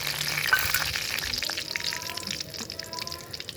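Four bay leaves and whole garam masala of dried red chilli, cinnamon, cloves and cardamom sizzle in hot oil for dhaba-style palak chicken, a steady close crackle and hiss that runs throughout.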